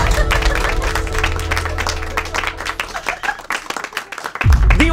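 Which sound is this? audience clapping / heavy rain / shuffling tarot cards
audience clapping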